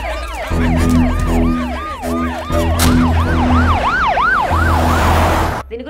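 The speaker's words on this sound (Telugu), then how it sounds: "ఆయనకి హార్ట్ స్ట్రోక్ రావడంతో అంబులెన్స్ లో హాస్పిటల్ కి తీసుకువెళ్తున్నారు" A loud, close ambulance siren wails in rapid rising and falling sweeps over a steady tonal horn and engine drone, running the whole clip before it cuts off abruptly.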